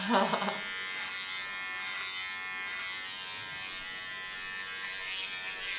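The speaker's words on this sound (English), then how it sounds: "The rumbling sounds of the blades." Electric hair clipper blades buzz continuously at close range, a steady whirring hum with a few brief clicks near the start.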